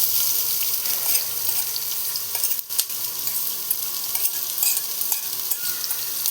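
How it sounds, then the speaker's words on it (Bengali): Chopped onion and green chili fry in hot oil with a loud, dense sizzle, punctuated by scattered clicks and scrapes of stirring, plus a brief dip near the middle; no one speaks. "পেঁয়াজটা আমি হালকা করে ভেজে নেব।"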